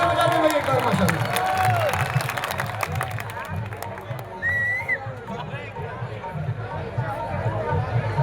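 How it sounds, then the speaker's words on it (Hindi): A qawwali concert crowd claps and cheers loudly, with dense clapping in the first half. An amplified voice keeps talking over the noisy crowd throughout. "अरे ये जोरदार तालियां बजाते हुए एक बार माशाल्लाह।"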